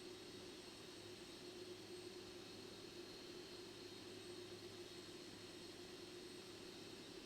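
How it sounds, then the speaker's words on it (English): Airbus A320 airliner taxiing out to the runway in the X-Plane 11 flight simulator, a faint, steady jet engine whine and low drone holding constant the whole time, with no talk. "he's taxiing out to the runway"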